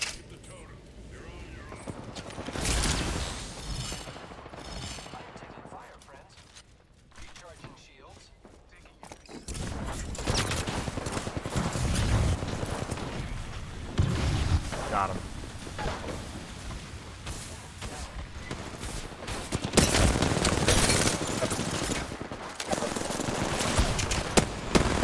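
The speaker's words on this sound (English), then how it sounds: "God, I hate shotguns in this fucking game." Shotgun blasts and other gunfire in an Apex Legends Arenas match, sharp shots and rapid bursts in clusters over footsteps and game noise, with someone talking throughout.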